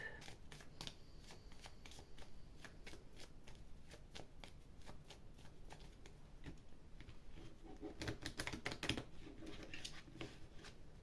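Tarot cards are shuffled by hand for a weekly reading, a soft, quiet run of rapid papery riffles and flicks repeating steadily, growing slightly louder near the end.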